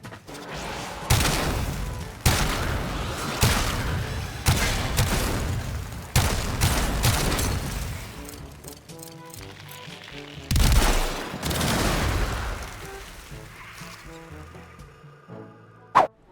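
Weapon fire from the Sepulcrum gun in the video game Warframe, with heat-element explosive rounds: a series of sharp, loud blasts at irregular intervals, each followed by a booming decay, alone with no talk.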